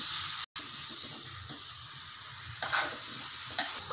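Chicken and potatoes are stirred together in a pan, with a soft continuous sizzle and hiss and scattered scraping strokes close by.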